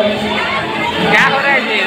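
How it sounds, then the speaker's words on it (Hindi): Dense crowd at the Chitra Mela fair in Jharkhand, a steady roar of many overlapping voices and chatter with nearby talk on top, loud and continuous, with a brief shout rising near the middle. "यहाँ क्या हो रहा है, इतना भीड़ है ऑलरेडी"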